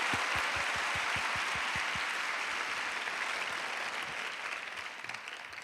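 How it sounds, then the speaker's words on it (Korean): A church audience of youth and university students at a vision festival service at Myungsung Church bursts into applause: a few sharp, distinct claps first, then dense, sustained clapping that slowly fades. "박수 크게 하겠습니다."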